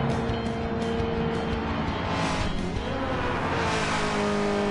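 A Chevrolet Holden V8 Supercars race car at Bathurst gives a loud, steady engine roar with a rising and falling pitch as it revs and passes, and some tyre noise is mixed in.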